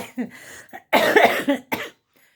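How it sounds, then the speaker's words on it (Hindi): A short burst of light, breathy coughing up close, a few quick hacks with a brief pause between them, then quiet. "खांसी हल्की है, ज़्यादा नहीं है, हल्की।"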